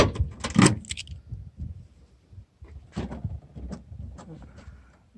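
2006 Toyota Corolla LE car keys jangling with a bright metallic rattle at the start, followed by softer clinks and handling noises, close and without talk.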